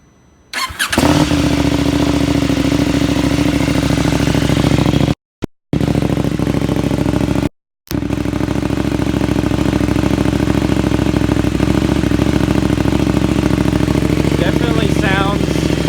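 A KTM 790 Adventure R fitted with a Sharon exhaust starts up close by, catching after a brief crank and settling into a loud, steady twin-cylinder idle with a couple of short dropouts.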